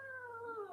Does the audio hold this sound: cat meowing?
yes